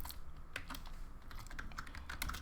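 Code being typed on a computer keyboard, a quick irregular run of close, light key clicks over a steady background hum, with no speech.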